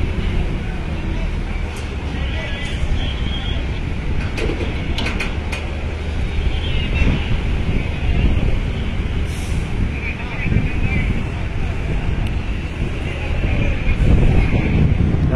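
Tour buses load onto a ferry at a crowded port, with a loud, continuous engine rumble, occasional sharp air-brake hisses and clanks, and voices partly buried in the noise.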